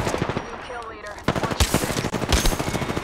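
Rapid video game gunfire, a loud, close burst of repeated shots that starts abruptly after a quieter moment and rattles on in quick succession to the end.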